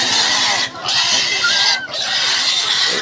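Pigs squeal and grunt loudly at a busy Saturday livestock market in Si Ma Cai, with repeated shrill cries close by broken by short pauses.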